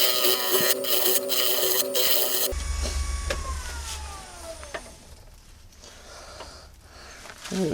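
A wood lathe spins a yew blank for a carving mallet, a steady motor hum with scraping tool contact as the piece is rounded and tapered, the tone shifting partway through.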